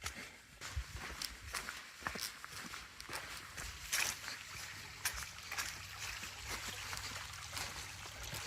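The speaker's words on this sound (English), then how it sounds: "Here's a pointless river crossing." Hikers wade across a river on the Uwharrie Trail, with irregular splashing steps and trickling water. The sounds are close and fairly quiet, with no speech.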